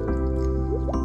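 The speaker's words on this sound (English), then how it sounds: "get some water in the hydrate bot." Water filling a hydration bottle, a steady close trickling and dripping with a low gurgling undertone, no voices.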